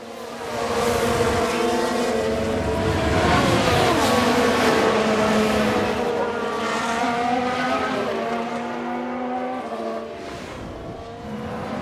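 A Ferrari Formula 1 car in the F1 Manager 22 racing game, its high-revving engine whining loudly and continuously with rising and falling gear pitches as it drives past, no voices.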